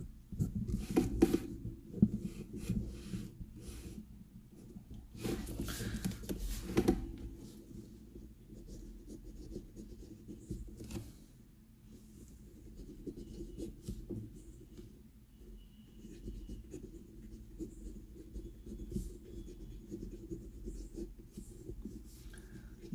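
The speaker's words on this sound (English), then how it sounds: "the way it writes is what defines this pen." A Faber-Castell Loom Gunmetal fountain pen with a broad steel nib moving across paper, soft scratchy strokes in short bursts separated by pauses, close and quiet with light handling noise.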